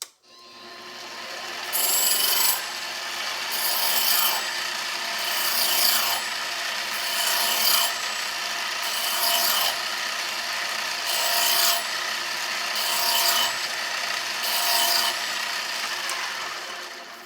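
A running tool deburring Victor spring barrel end caps, a steady whirring hum broken by repeated bright, raspy grinding passes about every two seconds, close and clear with no talking.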